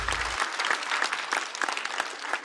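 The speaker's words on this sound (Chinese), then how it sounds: "再次掌声送给 Echo" A stand-up comedy audience claps in a dense, sustained round of applause that stays loud and even throughout the moment.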